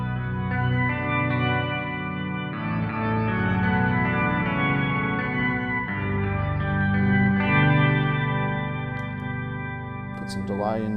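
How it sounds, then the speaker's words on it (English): Organ-like guitar chords ring out through an Analog Alien Rumble Seat pedal with reverb added, sustained and washy with long tails, the tone changing every few seconds and a brief high squeal near the end. "So reverb's probably the first thing to go for."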